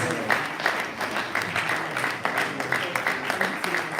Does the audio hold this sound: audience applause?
yes